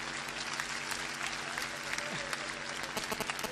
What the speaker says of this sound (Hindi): दोस्तों तालियां आपकी आ रही है